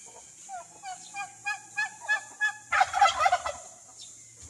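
A series of rhythmic honks from geese and turkeys on a farm builds up, joined near the end by a louder burst of overlapping gobbling calls from several birds.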